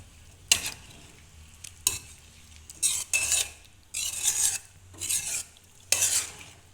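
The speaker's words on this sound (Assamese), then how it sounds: "এতিয়া আমি এইখিনি আকৌ এবাৰ লৰাই দিম।" A spoon scrapes and stirs chicken curry in a pan in about six short, uneven bursts, with faint sizzling between strokes, close up and with no talk.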